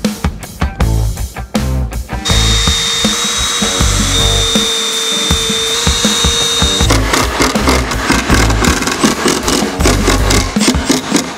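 A power drill drives screws into a table-saw cross cut sled in a workshop, with short bursts, then a long steady whine for several seconds, then a rapid run of closer bursts, loud and up front.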